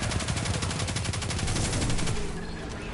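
Rapid automatic gunfire from the video game Destiny 2 rattles in a dense, rhythmic stream of close, loud shots that thins out in the final half second.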